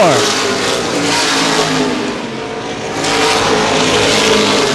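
Late model race cars roar around Baer Field Speedway, a loud dense engine wail that dips slightly and then swells again as the pack powers off a corner.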